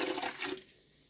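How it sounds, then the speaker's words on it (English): White vinegar splashed into a canner of water for home-canning cat food, a brief close liquid pour that fades after about half a second into a quiet bubbling hum. "Now I am going to add a splash of white vinegar into the canner water"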